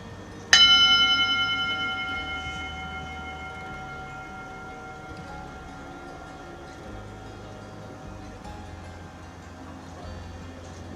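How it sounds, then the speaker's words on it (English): A single strike of a mindfulness bell rings out clearly, its bright sustained tone decaying slowly over about ten seconds into quiet room tone. "we were just focused on the sound of the bell"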